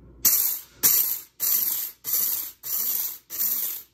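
A blade coffee grinder coarsely grinds coffee beans in six loud, close bursts of about half a second each, separated by brief pauses.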